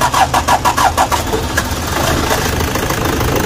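A Toyota D4D diesel engine, fitted with newly installed injectors and suffering high fuel use, sluggish running and white smoke, cranks in several rhythmic bursts, catches and settles into a rough, close, loud idle.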